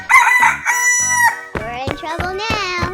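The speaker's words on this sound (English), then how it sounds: "Chicken." Rooster crowing in a 3D animal slide game, a loud, close cock-a-doodle-doo with clucking fowl calls, followed by bright high-pitched game voices.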